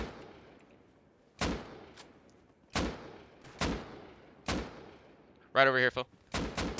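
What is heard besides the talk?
gunfire in the video game Rust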